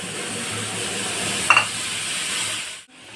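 Masala spices sizzling in hot oil with dried red chillies and cumin in a pan, a steady close frying hiss with a faint clink partway through before it cuts off.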